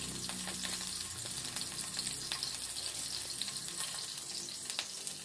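Pechay sautés in a pan with soy sauce, giving a steady close sizzle and crackle throughout, with occasional stirring scrapes and no voices.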